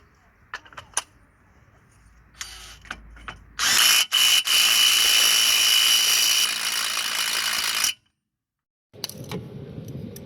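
An impact wrench rattles in a loud sustained burst of about four seconds on a 32mm hub nut of a Hyundai Getz, preceded by clicks and clanks of tools, then a brief pause and more handling.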